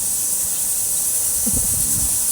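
A pressure cooker holding carrots gives off a steady, loud hiss of escaping steam, with a brief low rumbling burst partway through and no talk.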